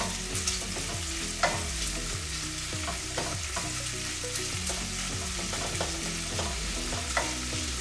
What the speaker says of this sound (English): let's get the bacon in a medium pan and start crisping it up